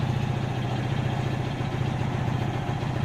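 An Alfa moped engine idles steadily just after starting, a low, even putter with a regular pulsing rhythm, close by and alone with no talk.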